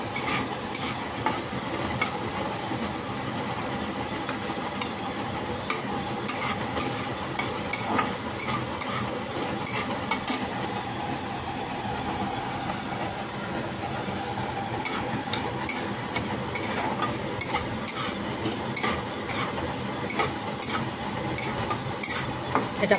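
Green beans (shim) being fried and stirred in a pan at home, with steady sizzling under continual scraping and clinking of a utensil against the pan, dense and close throughout.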